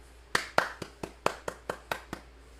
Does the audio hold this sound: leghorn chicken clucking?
no